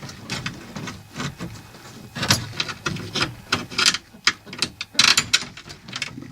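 A ratchet wrench clicks rapidly and loudly up close in uneven bursts while three bolts are fastened into a police car door.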